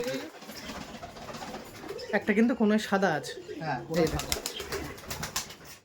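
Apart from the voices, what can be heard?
giribaj pigeons cooing and flapping wings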